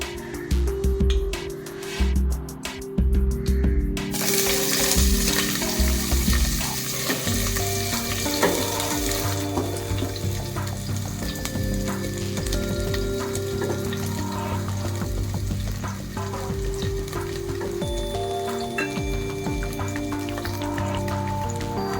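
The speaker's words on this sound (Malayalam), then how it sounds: "നല്ല രീതിയിലൊന്ന് ഇളക്കി കൊടുക്കണം. ഒരു ബ്രൗണിഷ് നിറം വരുന്നത് വരെ നമുക്ക് ചെറുതായിട്ടൊന്ന് വഴറ്റിയെടുക്കണം." Chopped onion and green chilli sauté in hot ghee for a South Indian village-style biryani, with a loud, continuous close sizzle, a burst of crackling as they hit the pan, and intermittent stirring scrapes throughout.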